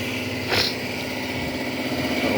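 Motorcycle engine running steadily at close range in a Malaysian workshop, a high-pitched buzzing idle with a brief rising blip early on, then holding an even drone.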